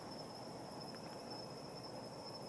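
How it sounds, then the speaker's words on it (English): Crickets chirping at night at a quiet campsite in a Florida state park, a faint steady high trill over soft background hiss with no other sounds. "It's very quiet. I'm hearing the crickets."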